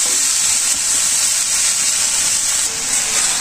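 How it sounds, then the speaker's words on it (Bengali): Sweet potato leaves fry in a pan with onion and chili, giving a loud, steady hiss and sizzle that runs unbroken throughout, with no talking. "শাকটা ভালো করে ভেজে নেব"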